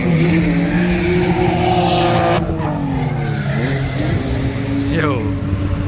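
A race vehicle being driven hard at a season-opener event, its engine revving loudly and continuously with shifting pitch and tire squeals, close and dominant throughout.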